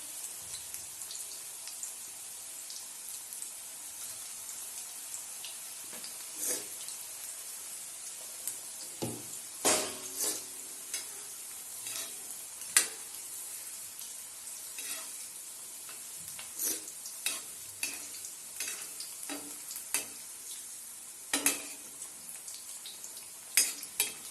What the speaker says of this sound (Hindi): ये बहुत जल्दी ही फ्राई हो जाएगी, इसमें ज्यादा टाइम नहीं लगेगा।